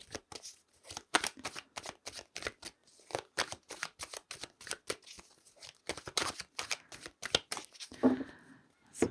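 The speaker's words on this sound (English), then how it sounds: "Oh, sorry, I'm dropping the cards." Tarot cards riffle and slap in quick, crisp bursts throughout, shuffled close up with a few louder clatters as cards drop, then a brief faint rustle near the end.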